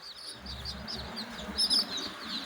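Native spotted hen chicks chirping, a cluster of faint high peeps and tweets scattered over a low background hum, a few louder chirps near the end.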